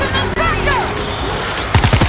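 A voice talks over sounds from the zombie shooter game World War Z Aftermath, then a short, rapid burst of gunfire crackles out at the end, loud and close.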